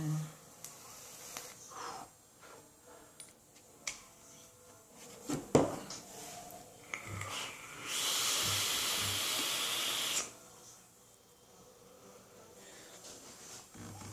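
A vape exhaled through a Poldiac and Maraxus mod with max VG juice, a steady loud hiss of vapor lasting about two seconds after scattered quiet handling noises.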